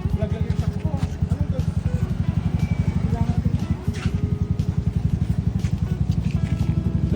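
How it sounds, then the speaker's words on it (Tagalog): Street racing motorcycles at a Pangasinan street GP cross-meet, engines revving hard in a steady, loud, pulsing drone throughout, with crowd noise behind. "Grabe ang didiin ng mga motor, oh."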